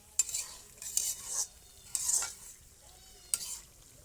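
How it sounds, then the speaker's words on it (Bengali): Tilapia fish cooking in a pot with ridge gourd and okra gives a faint, low sizzle broken by a handful of sharp spoon scrapes and clinks against the metal pot, spaced irregularly and heard close. "গাছের ধুন্দুল দিয়ে ভেন্ডি দিয়ে এই যে তেলাপিয়া মাছ রান্না করতেছি"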